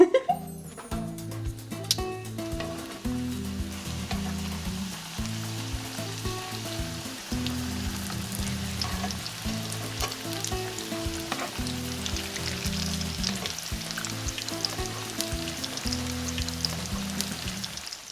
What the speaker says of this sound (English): now that I've cleaned it out, I'm gonna continue frying it up